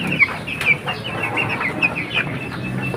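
Chickens in a backyard coop cluck and murmur steadily nearby, with a few louder squawks rising over the continuous flock chatter.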